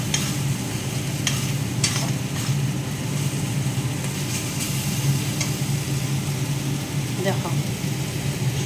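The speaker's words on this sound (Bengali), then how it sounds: "সুন্দর এটা ভালো করে ভেজে নিতে হবে" Food stir-fried in a pan gives a dense, even frying hiss with a few faint spatula clicks, sitting over a steady low droning hum, close and moderately loud throughout.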